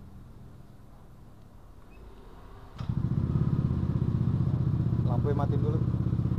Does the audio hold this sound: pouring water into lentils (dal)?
no